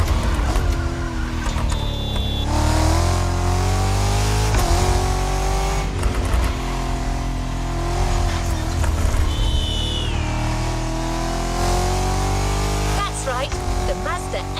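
A 2016 Mazda MX engine revs in The Crew Motorfest racing game, loud and steady with rising and falling pitch, tire squeals and shifts, under a talking voice.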